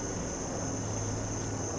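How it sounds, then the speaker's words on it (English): Baltimore police helicopters pass overhead, a continuous, faint, broadband rotor drone with a low hum running steadily throughout, with no one speaking. "Say hello to the Baltimore police helicopters."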